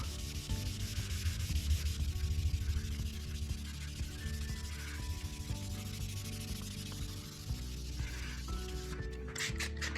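Sandpaper rubbed by hand over a car body panel, a steady close scratching rasp in even back-and-forth strokes, with a brief clatter at the end.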